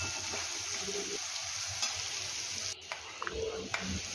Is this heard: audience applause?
no